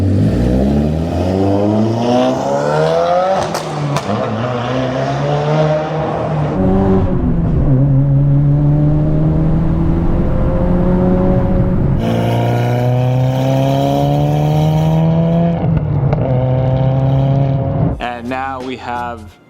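A Subaru WRX VB exhaust fitted with PLM mufflers in place of straight pipes revs loudly up close, the engine note climbing and falling through several sustained pulls before a final quick blip.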